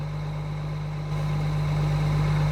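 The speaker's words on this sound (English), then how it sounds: "It sounds like there's a little blow in the exhaust somewhere." Engine idling with a slight exhaust leak, giving a steady, close low drone that holds even for a few seconds with no voices.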